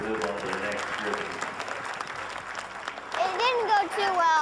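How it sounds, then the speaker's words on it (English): Crowd applause at an outdoor judged competition, a steady wash of clapping mixed with voices and some tonal sounds, growing louder toward the end. "Let's give him a real round of applause as we move on to the next group."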